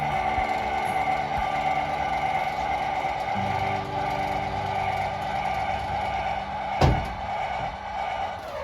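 A hand jack is cranked to lower a Coleman LT 214BHWE trailer, with continuous ratcheting mechanical clicks and grinding and a sharp metallic clunk near the end.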